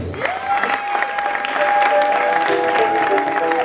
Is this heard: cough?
no